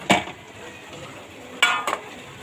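Paneer is stirred into fried spice masala in a pan, with two or three sharp spoon-against-metal clanks over a faint, low background sizzle.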